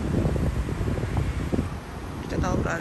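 Strong wind gusting and rumbling around a village house, a broad steady roar with bursts of low buffeting, and voices talking over it.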